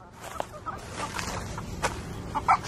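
Chickens clucking nearby in short, scattered bursts against a low background hum.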